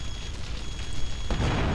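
An explosion in GTA Vice City lands as a sudden broadband boom about two-thirds of the way through, rising out of a steady, noisy game backdrop with no voices.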